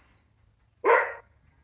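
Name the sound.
dogs barking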